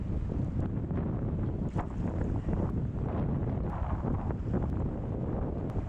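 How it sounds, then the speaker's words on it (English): Wind blows steadily along the Middle Fork Salmon River in Idaho, a continuous rushing roar with gusty buffeting against the microphone and no voices. "This wind is sort of like a mist fall."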